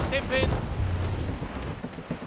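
Sailing ship at sea in the game Assassin's Creed Rogue, with a steady rush of wind and water filling the scene, a few brief tonal game cues near the start, and no voices.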